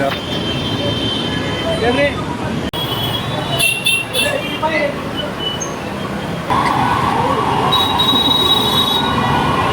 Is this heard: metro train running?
yes